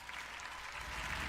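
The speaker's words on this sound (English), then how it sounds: "We're all clapping." Brief, distant applause from an audience at The Game Awards 2020, a soft continuous wash of clapping hands for just over a second.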